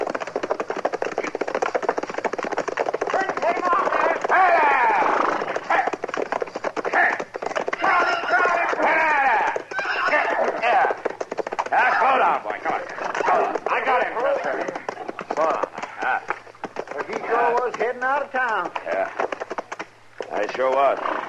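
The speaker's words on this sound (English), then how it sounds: "That's a runaway horse, Chester." A runaway horse gallops up a frontier-town street in an old Western radio drama, its hoofbeats running steadily beneath nearly continuous talk, with dog barks mixed in.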